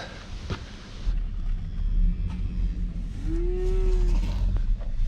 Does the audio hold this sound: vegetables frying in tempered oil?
no